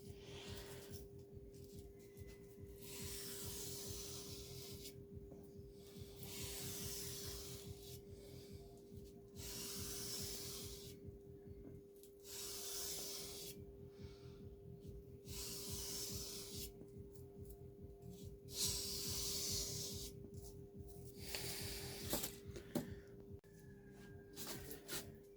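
Abrasive paper rubs back and forth by hand along the steel blade of a chef knife with an S grind, producing rhythmic raspy strokes in bursts with short pauses, close up over a steady background hum.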